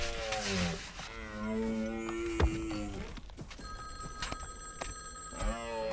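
An in-game telephone rings in Baby Steps, its tonal warbling rings repeating through the scene and mixing with other harmonic game sounds and clattering effects, fairly faint and without speech.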